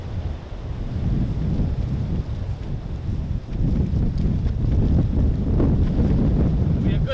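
Strong wind buffeting the microphone at an outdoor canoe campsite in heavy, continuous low rumbling gusts, with no talking.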